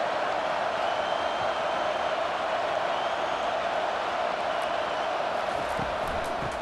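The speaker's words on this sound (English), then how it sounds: "Decibels rising as the crowd gets behind this defense on 3rd down." Stadium crowd noise in the College Football 25 video game during a Texas Longhorns vs. Nebraska Cornhuskers game, a dense, steady roar as fans get behind the defense on third down, loud and continuous throughout.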